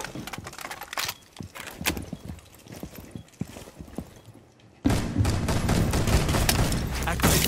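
Video game gunfire crackles in dense, rapid bursts, scattered and uneven at first, then a louder sustained barrage, with a voice calling out briefly.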